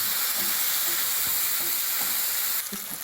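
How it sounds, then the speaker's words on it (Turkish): Onions and red kapya peppers sizzle as they sauté in a pan, giving a constant close hiss with occasional stirring scrapes. Near the end there is a brief shift. "Evet soğanımızı hafif bir soteledikten sonra kapya biberlerimizi kattık."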